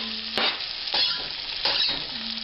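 Coarsely chopped maple ham fries in a pan and is stirred with a spatula, its constant sizzle punctuated by several scraping strokes against the pan, near and with no one speaking.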